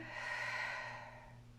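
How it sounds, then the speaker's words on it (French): During a breathing exercise, one long, slow breath is drawn in and let out close to the microphone. It is soft and airy, with a faint steady hum underneath. "Inspire. Expire."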